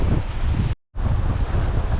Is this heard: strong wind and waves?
yes